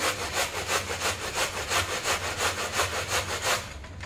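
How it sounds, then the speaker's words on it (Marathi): Cabbage is rubbed back and forth on a fine hand grater in quick, even rasping strokes, roughly three per second, close and loud with no talk. "आता इथे मी या किसणीच्या साहाय्याने कोबी पूर्णपणे असा किसून घेणार आहे, बारीक किसणी आहे।"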